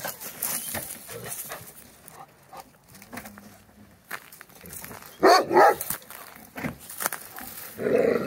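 A Kangal dog gives a couple of sharp barks close by amid quiet outdoor background noise, with a softer bark near the end.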